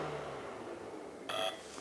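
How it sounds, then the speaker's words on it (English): A single short electronic beep from a Festool ETS EC 150 sander cuts in near the end, bright and loud over a faint steady background hum. "There's the beep, all the way one way, all the way the other"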